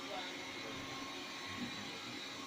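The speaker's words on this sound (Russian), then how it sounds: "Вот он сейчас моет полы. Видишь, влажная уборка идет." A Xiaomi robot vacuum cleaner doing wet mopping on a floor, giving a steady close whirring hum with broadband hiss that holds level throughout without pauses.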